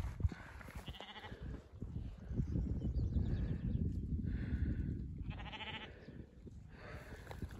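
Sheep and newborn lambs bleat several times in mountain country with snow, quiet, scattered calls over a constant low rumble of wind or movement.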